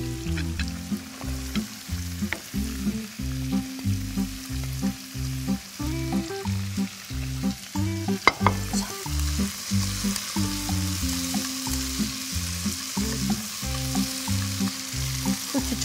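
Onion is briefly stir-fried in a hot pan, a loud close sizzle with a regular rhythmic pulsing of tossing and stirring throughout, no speech.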